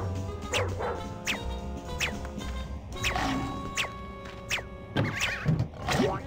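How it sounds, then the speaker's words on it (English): A big dog in the Ed, Edd n Eddy: The Mis-Edventures game barks in a run of sharp, loud yaps and yelps, spaced irregularly over layered game music and sound effects. "that big dog trying to hurt me"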